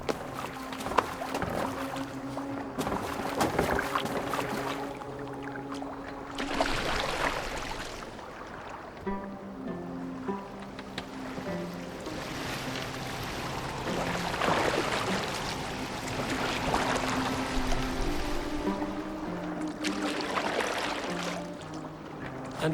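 A longship steered across water in Assassin's Creed Valhalla, with sloshing waves, creaking and rowing sounds under a layered music bed, continuous and moderately loud, no talk.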